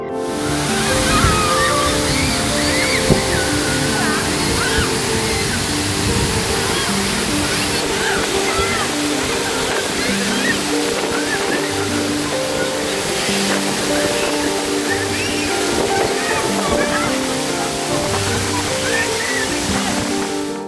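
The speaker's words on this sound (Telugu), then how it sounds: "ప్రకృతి సౌందర్యానికి ప్రసిద్ధి చెందిన జలపాతం ఈ జలపాతం భూతల స్వర్గాన్ని తలపిస్తోంది" Gandahati waterfall pouring from high hills in a scenic natural setting, a steady loud rush of water with constant roar, joined by lively voices of young visitors and shouting throughout.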